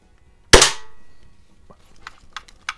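A single sharp crack from an Air Venturi Lil' Duke lever action BB gun fired at a can, followed by faint clicks and small metallic handling sounds.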